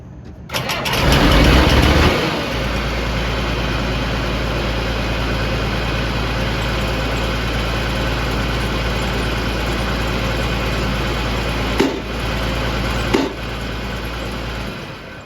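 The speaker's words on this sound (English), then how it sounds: "So I'm going to start the machine." The engine of a hydraulic machine cranks and fires with a loud burst, then settles into a steady, rumbling idle that runs on, broken by a couple of brief clunks near the end, with no talk.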